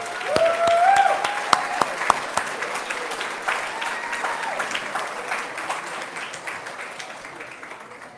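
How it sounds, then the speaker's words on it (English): A banquet crowd at a chamber of commerce awards dinner breaks into applause after a brief rising whoop, with crisp nearby claps over a broad wash that gradually fades. "let's give one more round of applause for all they've done for us."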